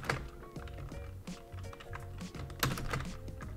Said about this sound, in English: I know I'm spamming my keyboard